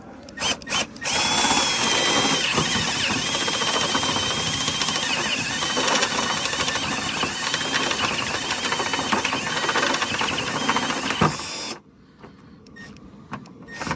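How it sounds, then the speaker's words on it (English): A power drill whines loudly and continuously as it bores a hole through a car battery during a battery disconnect switch install on an LS-swapped Lexus, stopping abruptly near the end, followed by faint handling noises. "watch me put a hole in the battery"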